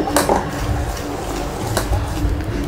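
Foxtail millet dosa batter with coriander gets stirred in a bowl, a spoon scraping and clinking against the sides in a steady, close-up rhythm.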